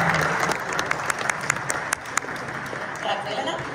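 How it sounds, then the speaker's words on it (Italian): An audience applauding at a Granfondo Stelvio Santini cycling race briefing, a burst of clapping from a crowd indoors, moderately loud and fading toward the end, with voices mixed in. "Applauso."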